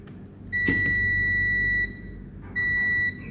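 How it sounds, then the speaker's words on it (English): A steady electronic multimeter continuity beep sounds twice while testing the cables of a mini travel iron: a long tone of over a second, a pause, then a shorter one, clear against a quiet background. "Yes, we have a beep from here to here."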